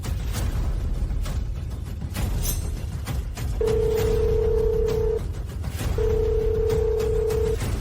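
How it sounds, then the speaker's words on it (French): A telephone rings in two long, steady electronic tones separated by a short gap, heard over a noisy, busy indoor background. "Téléphone."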